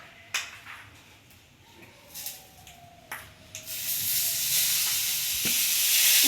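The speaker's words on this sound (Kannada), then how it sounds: "ನಾವು ಮಾಡಿರೋ ಒಗ್ಗರಣೆನ ತಂಬುಳಿ ಒಳಗೆ ಹಾಕೋಣ." Hot tempering sizzles and crackles as it is poured into amla tambuli, a Kannada-style yogurt dish, with sharp pops at first and then a louder, steady hiss that builds toward the end, close by.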